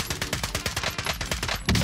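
Rapid, dense gunfire from Call of Duty Warzone fills the moment with overlapping automatic bursts and sharp shots, loud and close throughout, with a heavier blast at the very end.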